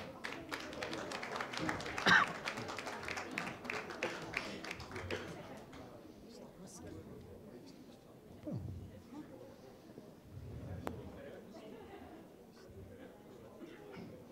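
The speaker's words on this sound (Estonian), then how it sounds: "Aplaus!" Clapping from an audience at a Social Democrats night conference held in a nightclub theatre in Estonia, fairly faint and lasting about five seconds before it dies down into quiet room sounds with scattered taps and shuffles.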